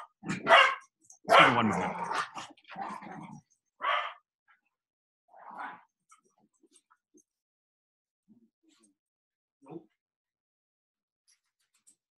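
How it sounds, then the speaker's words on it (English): Dogs bark and yelp playfully at home in several close, loud bursts, fading to occasional yips, while a person briefly speaks between the barks. "My dogs were having too much fun."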